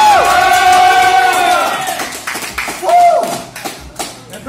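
An audience at a combat jiu-jitsu fight whoops and cheers loudly, with whistle-like shouts, then breaks into scattered rapid clapping as the noise fades.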